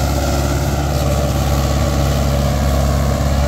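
A Mahindra 575 XP Plus tractor with a 910 cultivator attached runs with a loud, steady diesel drone, constant and close throughout with no talk.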